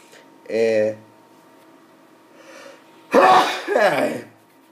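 A single sharp sneeze bursts out near the end, preceded by a short voiced sound and a faint murmur in an otherwise quiet room.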